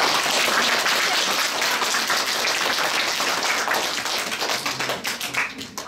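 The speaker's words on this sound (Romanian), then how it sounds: "vreau să vă aplaudați reciproc" Schoolchildren at a Bucovina Day school event applaud one another, a dense, loud burst of clapping that holds steady for several seconds before thinning out and fading toward the end.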